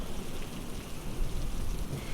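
Steady rain patters down in a dense, even hiss, with soft lower rumbles mixed in.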